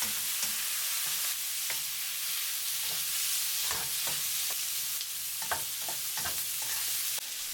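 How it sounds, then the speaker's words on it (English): Shrimp and udon noodles stir-frying in a hot pan with salt, pepper and Shaoxing cooking wine, producing a steady hiss and sizzle with regular scraping stirs, no voices. "Stir for 1 minute and 30 seconds."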